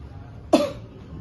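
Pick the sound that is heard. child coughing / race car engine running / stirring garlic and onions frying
child coughing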